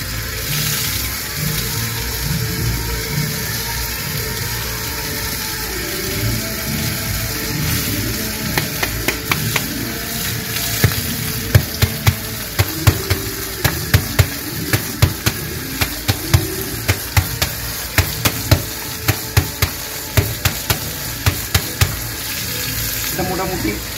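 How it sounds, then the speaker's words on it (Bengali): A mini iron guard candle being rinsed under running water. A steady close stream of tap water flows throughout, and in the second half the water is cut by a run of sharp clicks and knocks as the part is handled. "তারপরে ভালোভাবে ধুয়ে নেবেন।"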